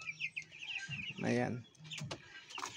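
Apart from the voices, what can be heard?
broiler chickens clucking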